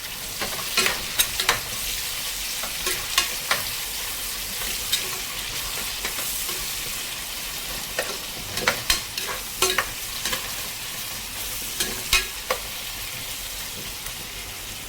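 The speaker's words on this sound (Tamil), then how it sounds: "வெங்காயத்தை போட்டு நல்லா வணக்குங்க" Onions stir-fried in a pan for chicken curry hiss with a steady sizzle, punctuated by irregular scraping and clinking stirs of a spatula, close and alone without talk.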